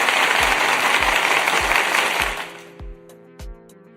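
Audience applause during a live basketball playoff breakdown stream, a dense wash of clapping that fades out midway, leaving a few isolated low thumps and sparse hits.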